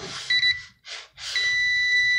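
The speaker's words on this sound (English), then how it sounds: "every time it finds metal, then it beeps" A handheld stud-and-metal detector beeps in loud, close electronic pulses, several bursts separated by short gaps, with no talking over them.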